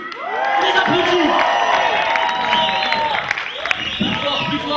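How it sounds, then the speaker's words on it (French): Audience at a crew showcase event in Rabat clapping and cheering, with excited shouts, whoops and high voices rising over a steady bed of applause. "Les applaudis."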